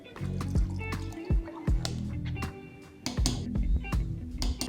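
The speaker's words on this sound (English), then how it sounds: "I add about 1/2 cup of milk and 2 teaspoons of cacao powder into the frother" About half a cup of milk poured into a milk frother along with cacao powder, giving gurgling splashes and a liquid fill. A voice may talk faintly in the background.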